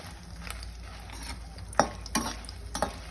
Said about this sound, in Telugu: పచ్చెనగపప్పు వేయించుకుంటున్నానండి.